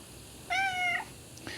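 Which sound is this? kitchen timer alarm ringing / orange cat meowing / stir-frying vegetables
orange cat meowing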